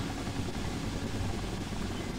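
A helicopter in the Spider-Man 3 video game gives a continuous low rumbling drone with a steady rotor throb, loud and unbroken throughout.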